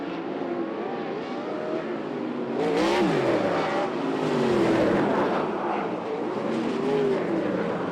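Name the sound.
dirt track race cars driving past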